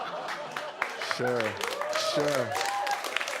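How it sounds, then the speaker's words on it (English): Audience applause at a live comedy show on Bowen Island, a moderate wash of clapping partly under a performer's voice, which speaks briefly over it. "you're so right to applaud"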